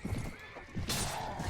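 Horse neighing loudly in a Mount & Blade Perisno mod melee battle, a short whinny amid clip-clop hooves and battle noise.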